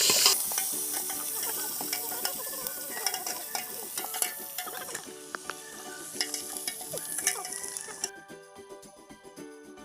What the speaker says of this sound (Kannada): ರಾತ್ರಿ ನೆನೆಸಿರೋ ಕಡಲೆಕಾಳನ್ನ ಈಗ ಒಗ್ಗರಣೆಗೆ ಹಾಕ್ಕೊಳ್ತಾ ಇದ್ದಾರೆ